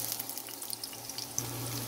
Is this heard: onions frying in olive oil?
yes